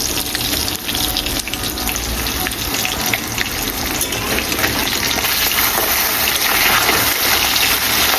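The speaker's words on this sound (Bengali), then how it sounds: "আমি মেয়ের জন্য মাছ ভাজা করছি" Fish fries in a pan with a loud, steady, close-up hiss of sizzling oil that runs without pause, and no voices are heard.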